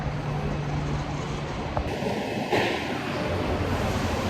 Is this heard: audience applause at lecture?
no